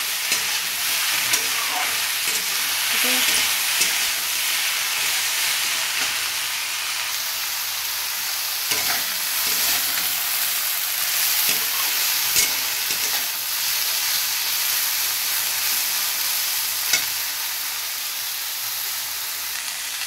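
Water lily (shapla) stems fry in a pan without turmeric, giving a constant loud sizzling hiss throughout, with occasional soft knocks and crackles from stirring.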